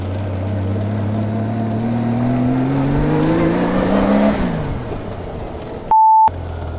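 A motorcycle ridden in circles around a parking lot: its engine hums steadily and climbs in pitch as it speeds up, then the note drops away as it slows. A short electronic beep follows near the end.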